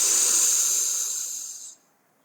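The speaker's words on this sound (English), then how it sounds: "breathe all the way into the bottom of your belly." A slow, deep belly breath released as one long, close, airy exhale. The hiss fades gradually over about two seconds and then stops into silence.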